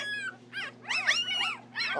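Week-old puppies whimper and yelp in a noisy, overlapping chorus of high wavering cries, close by, over a steady low mechanical hum.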